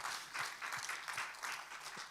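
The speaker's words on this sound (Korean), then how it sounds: "우리 하나님께 감사와 영광의 박수 올려드리겠습니다." A church congregation at a Korean Sunday worship service claps together in a quick, even rhythm of repeated beats, soft and somewhat distant throughout.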